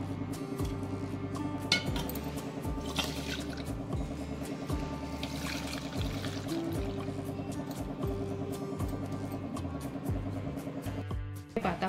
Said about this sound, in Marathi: आता आपण हे पाणी काढून घेणार आहोत यामधलं